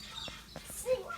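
Brief, faint bird calls of king parrots, a few short chirps and a higher squawk, heard outdoors against a soft background.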